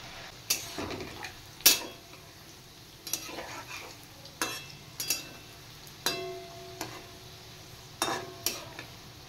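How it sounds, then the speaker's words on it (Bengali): Potatoes fry in hot oil with a steady low sizzle, punctuated every second or so by sharp clinks and scrapes of a utensil stirring the pan. "তাহলে এইভাবে আমি আলুগুলো ভেজে নেব"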